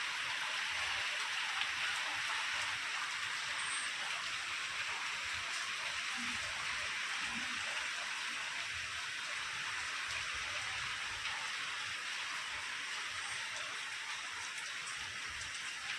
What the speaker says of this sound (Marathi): लगेच थोडा येतोय पाऊस की जातोय.